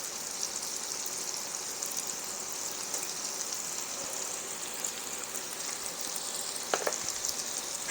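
Southern fried corn cooking with bacon and salt and pepper in a pan, a soft steady sizzle with light crackles and a brief stirring scrape near the end, fairly quiet and without talk.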